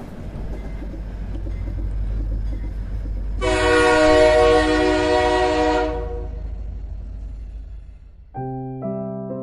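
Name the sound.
train arriving at a station, sound effect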